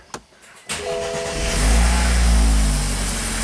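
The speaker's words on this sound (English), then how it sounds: "Can we just start up and drive it out?" A BMW car engine cranks and starts after a brake pad repair: a brief click and a whirring crank, then the engine catches and settles into a loud, steady rumbling idle close by.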